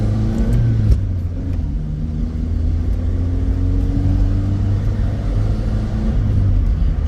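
A 1984 Dodge Rampage 2.2 five-speed sport truck drives along with a steady, loud engine hum and road rumble, rising and falling in pitch as it accelerates through the gears.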